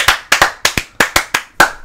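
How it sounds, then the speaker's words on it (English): A few hands clapping in short, sharp bursts, about nine claps at an uneven pace, close and fairly loud with no talking. "Hold on, we gotta give an applause to Danny."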